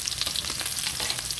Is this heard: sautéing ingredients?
yes